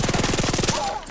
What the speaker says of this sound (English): Let's see what this submachine gun do. Shoots fast